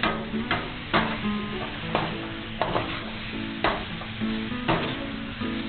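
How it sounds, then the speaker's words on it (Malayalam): Chicken pieces frying with sautéed onions in a pan for Malabari chicken, with a steady sizzle and regular scraping stirs of a spoon about once a second, close and prominent with no talking. "നമ്മൾ ആ ഉള്ളി വഴറ്റിയതിന്റെ കൂട്ടത്തിൽ നമ്മൾ ചിക്കൻ ആഡ് ചെയ്ത് കൊടുത്തു"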